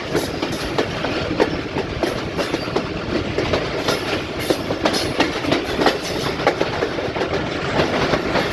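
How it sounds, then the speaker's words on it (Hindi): From aboard the Rehman Baba Express 48 Down, running between Taxila and Rawalpindi, the train rolls slowly onto the main line with a steady, close clickety-clack of wheels over rail joints and a constant rumble of the carriages, with no voices. "अब ट्रेन आस्ता आस्ता मेन लाइन पर आ गई है।"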